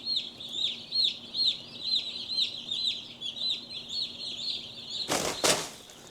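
Newly arrived baby meat chicks peep in a steady, busy chorus of high chirps, followed near the end by a couple of loud rustling thumps.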